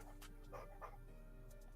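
A pet dog whimpers and whines softly at home during an NFL broadcast of the Arizona Cardinals at the Carolina Panthers, with a few faint, brief cries buried under steady room and television noise.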